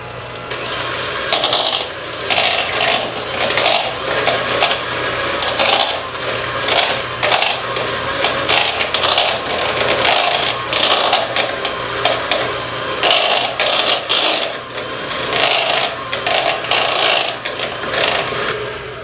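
Electric stand mixer whirring steadily as it beats pumpkin cheesecake batter, a loud, close motor drone with rhythmic pulsing and scraping of the beater in the bowl, and no voices.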